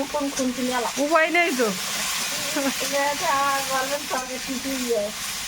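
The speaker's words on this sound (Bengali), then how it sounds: "এই কড়াই এবার উচ্ছেটা ভেজে নেব" Bitter gourd fries in hot oil in a wok, giving a steady sizzle and crackle while someone talks over it close by.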